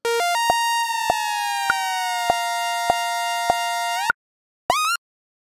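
Synthesizer oscillators in unison mode detune, giving a steady buzzy harmonic tone that slowly drifts in pitch with periodic clicks, then a brief silence before a short rising burst.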